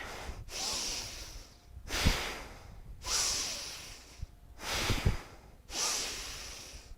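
A yoga practitioner pushes out forceful breaths through the nose and mouth, four strong hissing exhales separated by short pauses, close and clear, with no talk.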